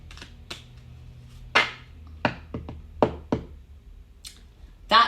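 Tarot cards being drawn from a deck and laid down, giving a handful of sharp, close taps and soft slaps spread unevenly over several seconds in a quiet room.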